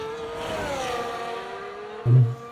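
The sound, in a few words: F1 race car braking through hairpin, video game F1 24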